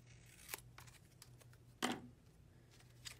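Ribbon is cut freehand with scissors while making a Stampin' Up! Christmas card: a few quiet, close snips with one louder crisp cut near the middle, in an otherwise quiet room.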